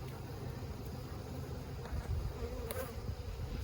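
Honeybees humming around an opened beehive, a steady low drone of many wings, fairly faint and even, with no talking.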